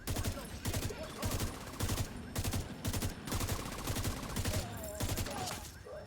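Gunfire in The Division 2 video game comes in rapid rhythmic bursts of automatic fire, loud and close, repeating with short gaps between volleys.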